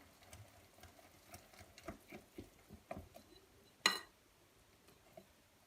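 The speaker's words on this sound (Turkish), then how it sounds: "Yağımızı da bir güzel çırpıyorum." A whisk taps and stirs through orange and lemon cake batter as oil is beaten in, producing soft rhythmic clicks against the bowl, faint and close, with one sharper knock near the end.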